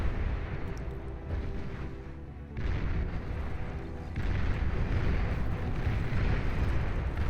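Fat Boy artillery projectiles exploding in the strategy game Beyond All Reason, a dense, rumbling barrage of overlapping low booms that surges louder partway through and keeps rolling without pause.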